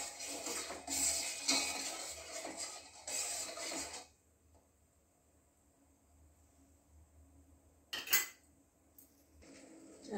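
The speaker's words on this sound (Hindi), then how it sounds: "इसको चलाते रहेंगे, इस तरह से चाशनी बना लेंगे" Sugar syrup being stirred in a pan on a gas stove: scraping, clinking spoon-on-metal sounds in busy bursts, then a quiet stretch and a single sharp clink near the end.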